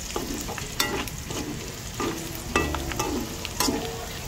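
Garlic frying in a pan while pork is cooked, a steady crackling sizzle broken by several sharp scrapes and clatters of stirring, close and fairly loud, with no talking.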